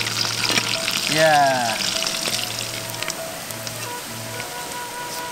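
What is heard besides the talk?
tempeh frying in a pan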